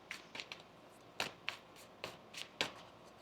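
Tarot cards being shuffled by hand, a series of soft, crisp riffling and tapping bursts at irregular intervals, quiet and close with no voices.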